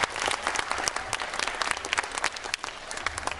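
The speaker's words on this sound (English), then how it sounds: "One more round of applause" A school audience claps after a Spanish dance presentation, dense close applause from many hands, steady and loud throughout the few seconds.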